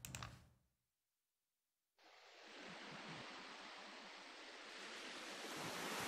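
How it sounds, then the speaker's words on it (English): Ocean waves from the opening cinematic of Final Fantasy VIII: after a brief sound and a second of silence, a steady broadband wash of surf rises and holds, growing slightly louder toward the end, with no talking. "Oh, I hear the ocean."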